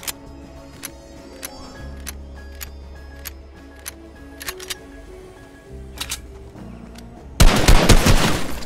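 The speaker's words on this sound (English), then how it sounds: "Machine gun." Machine gun fire in Fortnite comes as scattered sharp clicks and shots over a humming game backdrop, then a loud sustained burst of automatic fire near the end.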